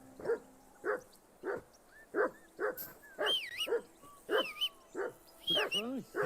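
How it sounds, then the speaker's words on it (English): A dog barks repeatedly in Kingdom Come: Deliverance II, a steady series of sharp, fairly close barks spaced about half a second apart, with some higher whining yips mixed in near the end. "Whistle at that mutt of yours to stop barking."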